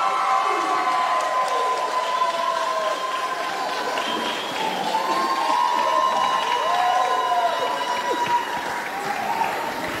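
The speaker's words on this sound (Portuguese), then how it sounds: "Eu peço uma grande salva de palmas para eles." Wedding guests at a civil ceremony in Mozambique applaud and cheer the newly married couple, a steady, dense wash of clapping and crowd noise with voices shouting across the whole stretch.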